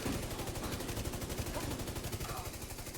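Sustained automatic fire from a light machine gun in The Division 2, a dense, rapid, evenly spaced stream of shots without pause, loud and continuous across the clip.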